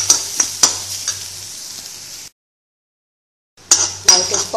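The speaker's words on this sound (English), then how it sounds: "Now it is perfectly fried." A stuffed cauliflower paratha fries in a pan with a soft sizzle under several sharp clinks of a utensil against the pan, then a silent gap before more sizzling and scraping.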